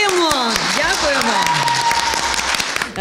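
Audience applause at a city-day award ceremony honouring ambassadors, a burst of clapping from the crowd with a voice speaking over it, fading near the end.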